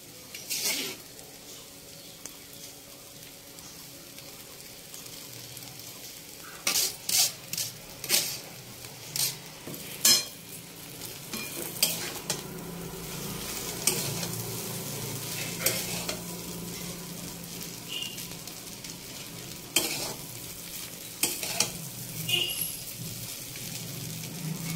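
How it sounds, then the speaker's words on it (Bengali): Chowmein with potatoes stir-fried in a pan: a soft continuous sizzle under irregular scraping and tossing knocks of a spatula, clustered in bursts and fairly close. "এবার আমি চাউমিনটা দিয়ে দেবো।"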